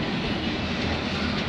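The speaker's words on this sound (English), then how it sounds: "I think I see another train coming out of the way" At night at Bayview Junction, a CN freight train hauling containers rumbles past close by, a steady, loud grinding roar of rail cars and wheels with no voices.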